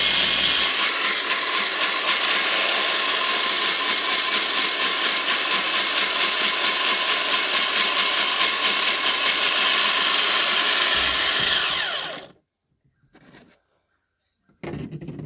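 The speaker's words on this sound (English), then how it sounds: "You can keep trying to grind it if you want, or if this is enough." Eggshells are ground into powder in a continuous, harsh whirring grind that runs loud and steady for about twelve seconds, then stops abruptly, leaving near silence with a short burst of noise at the end.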